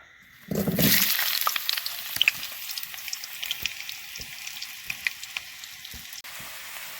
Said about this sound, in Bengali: এই আলুটাকে ভাজবো।